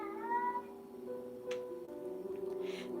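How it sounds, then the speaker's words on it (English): A cat meows several times nearby, drawn-out tonal calls with brief pauses, faint household sounds between. "Oh yeah, that's Kitty Stella"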